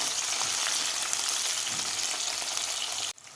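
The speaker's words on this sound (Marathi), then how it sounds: "कांदा सुद्धा आपल्याला व्यवस्थित परतून घ्यायचा आहे." Chopped onion sautéing in a pan for masala khichdi makes a dense, even, close-up sizzle that holds steady before cutting off abruptly near the end.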